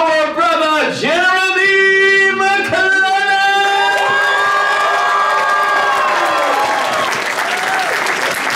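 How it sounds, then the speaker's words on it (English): Crowd at a comedy show in Chicago cheering and applauding loudly, with whoops and shouts over sustained clapping that swells and slowly fades, a host's amplified voice and tones ringing over it. "everybody on this side to just give me a nice big cheer"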